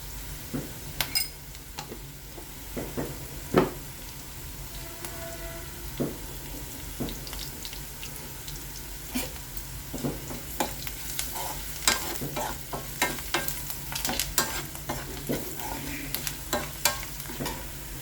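Onions sizzle brown in hot oil for a tempering while a spoon repeatedly scrapes and clinks against the pan, irregular stirring strokes close up over a soft frying hiss.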